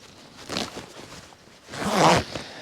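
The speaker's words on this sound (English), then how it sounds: "I'm just going to put this zip back up." Zipper on an SAS smock jacket in MTP camouflage pulled upward in two strokes, a short soft rasp followed by a longer, louder zipping run, close up with no talk.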